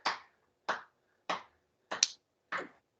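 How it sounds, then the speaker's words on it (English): Five sharp hand claps in an even rhythm, about one every 0.6 seconds, made during a sit-up exercise, close and crisp against silence. "Sit-up claps."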